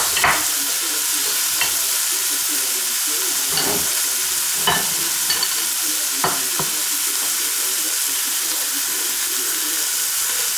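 Freshly picked mushrooms cook in a pan with a loud, continuous sizzle and hiss, joined by occasional scrapes and taps of a utensil stirring them; no voices.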